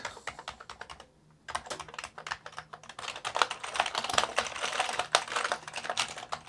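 Keys tapped on an Amiga 500 keyboard during a keyboard test, a dense run of fast clicky keystrokes close up with a brief pause early on, then steady rapid typing to the end.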